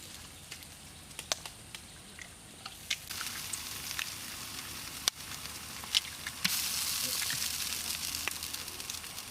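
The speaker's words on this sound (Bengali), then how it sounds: "এবার আমরা ডিম দিচ্ছি হ্যাঁ ডিমগুলো দিয়ে দাও" Eggs hitting a hot pan for Hakka egg noodles in a village kitchen, a faint sizzle with scattered clicks that swells into a brighter, steady frying hiss for the last few seconds.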